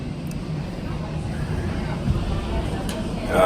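Steady low roar of an airplane cabin while boarding a plane to Newark, even engine and ventilation hum with faint murmuring in the background.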